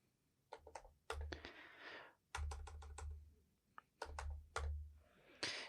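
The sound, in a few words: typing on computer keyboard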